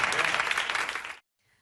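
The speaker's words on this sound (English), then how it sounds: "did you see the others clapping there like deranged seals?" An audience clapping at a televised political event, a dense burst of applause from a crowd that cuts off abruptly to near silence after about a second.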